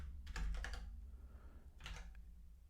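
Keys clatter on a computer keyboard while a command is typed into a web console for an Elixir and Phoenix application, with one quick burst of taps, a pause, then a shorter second burst, close and fairly quiet.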